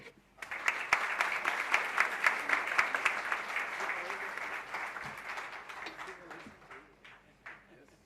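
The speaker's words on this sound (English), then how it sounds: "we should have another round of applause for this great keynote address" An audience at a Universal Oneness Day event bursts into sustained applause after a keynote address, dense clapping swelling quickly, holding for several seconds, then thinning out to scattered claps.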